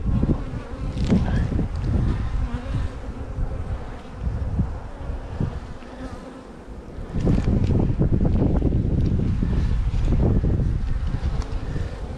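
Bees swarm around an open beehive during a brood inspection, a dense close buzzing that swells and fades as insects pass the microphone, with gusts of wind noise and no voices.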